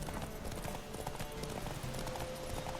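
Horse hooves gallop in a race in the video game The Witcher 3, a fast steady clip-clop rhythm heard close and continuous over a dense, noisy background with no talking.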